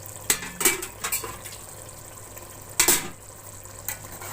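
Metal pot lid lifted and set down while aloo gosht (potatoes and meat) simmers on a low flame, a few sharp clanks and clinks spaced apart over a faint steady hum, no talking.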